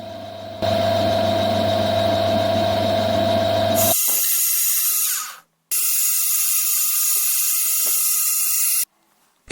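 A small machine drill whines steadily while drilling and tapping holes for adjusting screws in a metal ring, the pitch shifting to a higher, thinner whir, then stopping briefly twice.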